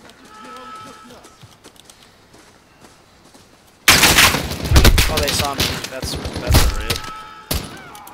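Gunfire erupts from several guns in the Call of Duty Modern Warfare campaign, a sudden loud burst of rapid close shots and thuds after a quieter stretch, with voices heard alongside.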